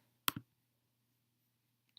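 A single sharp computer mouse click, close and crisp, then near silence.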